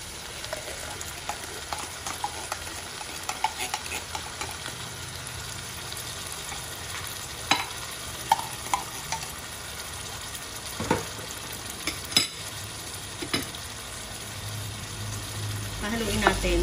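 Canned corned beef fries in a pan for a spaghetti dish and is stirred, giving a steady close sizzle with scattered scraping and tapping from the utensil, with a voice speaking at times.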